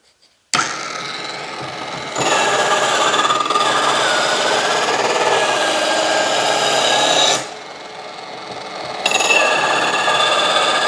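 A knife blade is drawn through a sports knife sharpener, a loud gritty rasping scrape in long continuous strokes with brief pauses between passes, close and with no talk.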